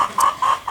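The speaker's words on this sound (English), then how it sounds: "You can hear a chicken right next to me." A chicken clucks close by outdoors in a home yard with an avocado tree and sukuma greens: three short, evenly spaced clucks, fairly loud and clear with no talking.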